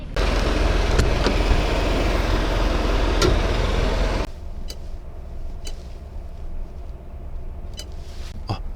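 A JP STAR Discovery camper van cruises on a highway, with a steady, loud road and engine rumble from inside that drops noticeably quieter partway through, with occasional faint clicks.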